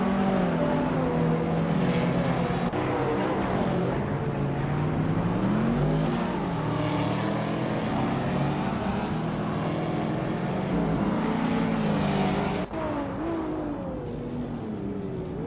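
A 2009 Lexus ISF V8 and other cars racing in a video game, a continuous loud engine drone that rises and falls in pitch as the cars shift and accelerate, with no voices.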